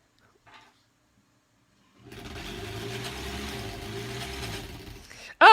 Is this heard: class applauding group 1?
no